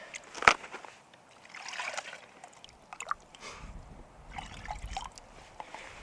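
Water trickles and sloshes softly as a container is dipped and filled from a stream in Arizona, with brief splashes and gurgles and no voices.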